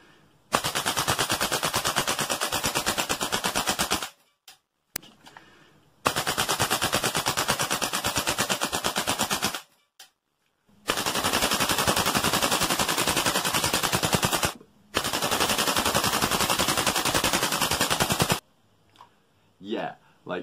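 A Tokyo Marui AKM gas blowback airsoft rifle fitted with a heavy recoil piston fires in four long full-auto bursts, each several seconds of rapid, loud, close clattering shots, with short pauses between bursts.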